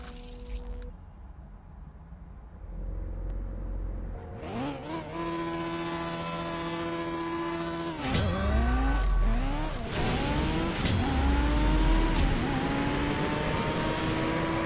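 Race car accelerating in the video game CSR Racing 2, a loud engine revving up through several gears with rising whines and sharp shift drops, a nitrous surge and building intensity toward the end, with no talk.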